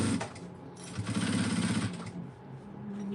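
A sewing machine stitches an up-cycled Gucci bag, with a rapid mechanical burst of stitching in the middle, flanked by shorter runs and clicking, close up and without talk, as the bobbin acts up.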